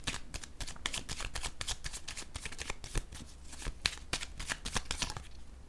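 Tarot cards being shuffled by hand, a dense run of crisp riffling flicks and slaps that continues steadily and close up throughout, with no talking.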